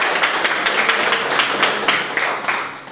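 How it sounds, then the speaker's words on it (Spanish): A church congregation applauds together in sustained, loud clapping that fills the space, with many hands overlapping in a dense, steady patter and a few sharper claps standing out. "Vamos a dar un fuerte aplauso a Dios"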